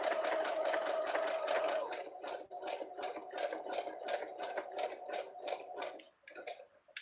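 A sewing machine back stitches over a fabric pouch hem, a steady fast rattle of needle strokes that slows and stutters near the end, close and clear.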